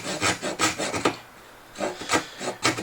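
Rhythmic rasping strokes of a hand saw cutting against the grain of wood, about a dozen back-and-forth pulls with a brief pause midway, close and clear.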